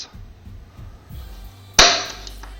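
A spring-loaded center punch fires once with a sharp, bright snap near the end, preceded by faint scraping and pressing sounds up close.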